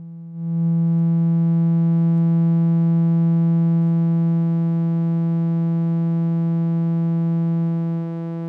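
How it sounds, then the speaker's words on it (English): A steady, sustained synth tone from a modular slope generator module swells in and holds at an even pitch, rich in buzzy harmonics, then fades slightly near the end. "Let's bring in the slope generator waveform."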